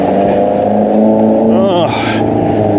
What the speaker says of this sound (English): That's Queen Street traffic